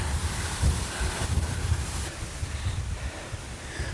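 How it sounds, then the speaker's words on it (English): Wind gusts at the base of France's highest waterfall, low rumbling buffets against the microphone over a steady wash of spray and falling water, fairly close, with no talking. "but pretty wet and windy"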